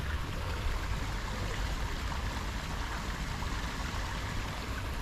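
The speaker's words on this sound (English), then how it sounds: "So the water is coming up there. It's feeding the pond and then come to this bigger pond." Water pouring and trickling into a pond in a South Sea rock garden with waterfalls, a steady, dense rushing wash that holds constant throughout with no voices.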